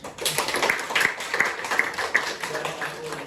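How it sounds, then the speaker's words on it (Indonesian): Students in a classroom clap for a presenter at a project-based learning final presentation: scattered, modest hand claps close by, mixed with background chatter and voices. "Silakan teman-teman tepuk tangan ke mas."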